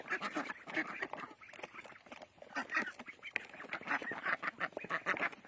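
A flock of Yili ducks in a pen quacks loudly and continuously in a chorus of overlapping calls, close by, with honking notes mixed in.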